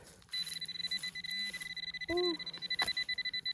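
A metal detector sounds while someone digs for coins outdoors: a steady, thin, high-pitched tone runs through the clip, with a brief warbling beep near the middle over rustling digging noise.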